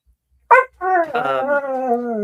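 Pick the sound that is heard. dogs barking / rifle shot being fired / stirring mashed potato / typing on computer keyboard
dogs barking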